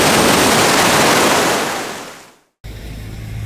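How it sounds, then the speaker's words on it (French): Sea waves wash onto a beach in a loud, broad rushing surge that fades out, followed by a brief silence and then quieter outdoor ambience. "Mais à des moments, il y a des vagues où il y en a des plus grosses."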